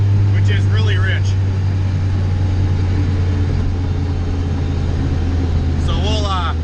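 A car fitted with a Jackson Racing supercharger holds a steady, close engine drone with a constant low hum, while brief bits of voice break in at the start and near the end.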